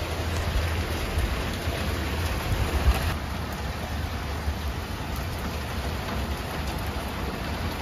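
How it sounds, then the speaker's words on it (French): A steady, moderate hiss of rain falls in Brittany, continuous and even throughout with a low rumble underneath and no voices. "comme souvent en Bretagne, la pluie s'est invitée chez nous."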